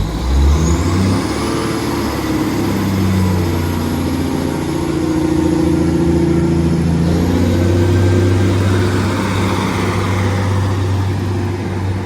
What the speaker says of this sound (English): Train now departing is a class 156 and a class 150 going to Liverpool Lime Street.